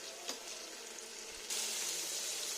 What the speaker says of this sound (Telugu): కర్రీలో యాడ్ చేసిన మసాలా అండ్ అల్లం వెల్లుల్లి పేస్ట్ పచ్చివాసన పోయే వరకు వేయించాలి